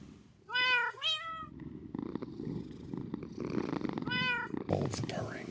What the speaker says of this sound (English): we turn up the sound so we can listen to the delicious purrs